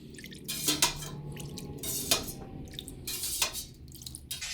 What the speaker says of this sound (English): you're just going to put your whisk in, plop it down, and it's just going to help break up those curds even more